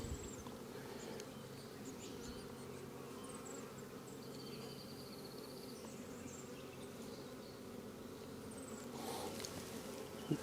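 Honey bees at an open hive during an inspection of brood frames give a steady, soft, dense buzzing hum that continues throughout, with faint individual bees passing nearby and no talk.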